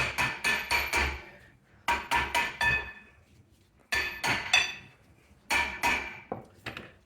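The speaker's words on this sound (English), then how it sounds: "tap it with a hammer to get some of that corrosion to get off of it" Groups of sharp metallic hammer taps on a corroded rear brake rotor of a Mercedes-Benz Vito/Metris van, struck in quick bursts of four or five, each ringing briefly, with short pauses between groups.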